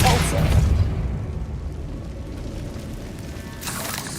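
A Convulso spell blast goes off in Hogwarts Legacy, a booming burst at the start that decays into a lingering low rumble, with a second swell of noise near the end.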